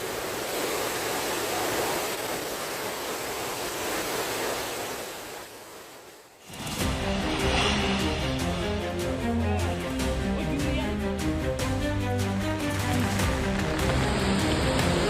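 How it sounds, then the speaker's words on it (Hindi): Heavy rain during days of intermittent downpours in Jammu and Kashmir, a dense, steady wash of falling water that cuts out briefly halfway, then returns loud and continuous with low rumbling beneath, no voices. "जम्मू कश्मीर में 3 दिन से रुक रुक कर भारी बरसात चल रही है"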